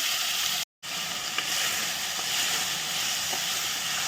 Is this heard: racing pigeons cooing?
no